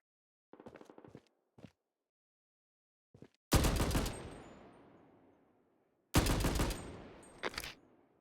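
In a video game, two long bursts of rapid automatic gunfire boom loudly and ring out, preceded by a few short faint clicks and rattles.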